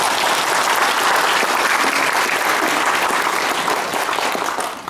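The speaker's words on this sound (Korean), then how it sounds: "참석해주신 대빈 여러분께 감사의 박수를 부탁드리겠습니다" Sustained applause from a seated audience at a formal Korean public gathering attended by lawmakers, steady and dense throughout, loud and close with no voices over it.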